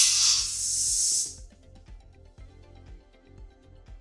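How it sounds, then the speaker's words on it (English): A burst of compressed air hisses loudly from an opened pneumatic solenoid valve feeding an actuator, lasting about a second before cutting off into quiet faint clicking and background noise. "The solenoid valve is used to operate the pneumatic actuator. Now I open the valve."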